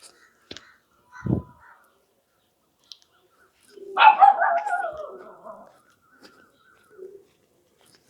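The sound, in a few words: dogs barking at a house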